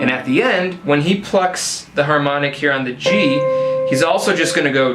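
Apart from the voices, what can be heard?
None of the usual background noises is heard.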